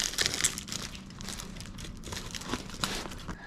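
Cardboard packaging of a Suparee Hyper 5 being cut and torn open, a continuous close crinkling and ripping with repeated sharp scraping strokes, with no talk.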